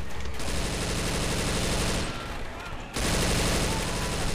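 Dense, loud, continuous automatic gunfire from a team battle in the zombie shooter Left 4 Dead 2, rattling almost without pause with a brief dip before resuming at full intensity.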